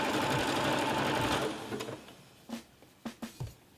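A sewing machine runs a small zigzag stitch on jersey fabric: a close, continuous mechanical whir for about a second and a half, then several short separate bursts of stitching.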